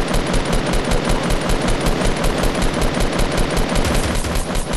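Automatic gunfire in a 50v50 multiplayer video game rattles in a rapid, unbroken stream of shots aimed at a wall, loud and close with no talking.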